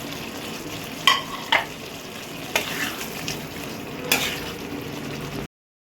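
Boiled jackfruit is stirred into a sizzling spice masala in a pan, with steady frying crackle and several sharp spoon scrapes and clinks against the metal, close by, ending abruptly.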